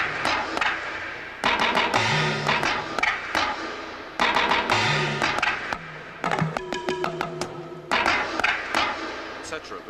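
Electronic drum pads triggering bamboo hat, talking drum and timbale sounds together, close, with repeated rhythmic bursts of clattering hits, pitched drum bends and metallic rings in a looping groove.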